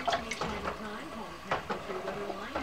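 A curved spatula scrapes and stirs a coffee and sugar mixture in a pot on the stove for homemade Kahlua, giving a few quick clinks and swishes close by.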